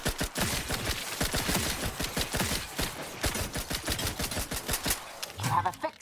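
Rapid gunfire in The Outer Worlds 2 rattles in dense bursts of shots, loud and close, running almost continuously with only brief pauses.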